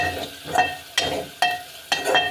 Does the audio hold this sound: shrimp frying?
yes